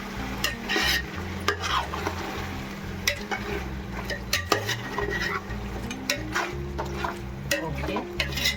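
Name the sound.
stirring pasav biryani in a pot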